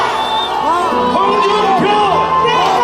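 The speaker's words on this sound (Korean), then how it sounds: "여러분 큰 함성으로 홍준표를 외쳐주시기 바랍니다" A crowd at a Daegu election campaign rally for presidential candidate Hong Joon-pyo, loud sustained shouting and cheering with voices chanting and calling out over a continuous roar.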